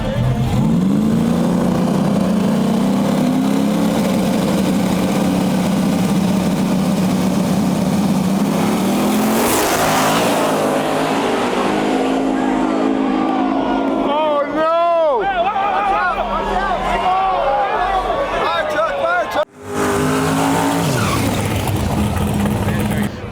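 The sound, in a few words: race cars racing on a race track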